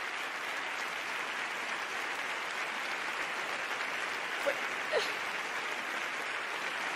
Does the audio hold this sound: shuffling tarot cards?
no